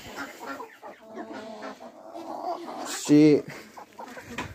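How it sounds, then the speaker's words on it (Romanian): A young Cochin hen clucks softly near a person talking, then gives one louder, sharper cackle near the end. "aceasta este puicuța de Cochinchina"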